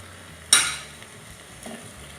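A spoon scrapes through chicken roast masala frying in a pan: one sharp stirring stroke, then a softer second one over a low background sizzle.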